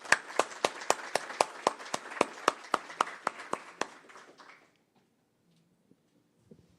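Evenly spaced claps greet a speaker at a talk on sustainable data centers, about fifteen sharp, rhythmic claps in a steady beat that soften and trail off into near silence.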